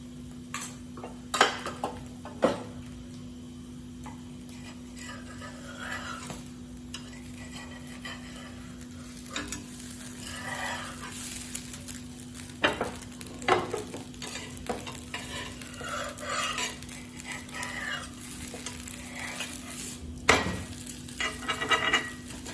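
Cabbage and masoor dal mixture frying in oil in a pan while being stirred, with a steady low sizzle under repeated scraping clicks and occasional louder knocks of the spoon against the pan.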